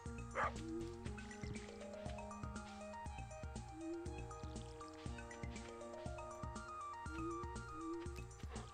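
A dog in the farming video game Stardew Valley gives short barks near the start, set against the game's continuous melodic background music.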